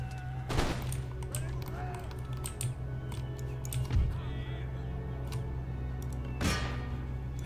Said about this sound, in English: I have this artillery pound that bowman unit into extinction